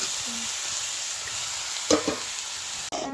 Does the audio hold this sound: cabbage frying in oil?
yes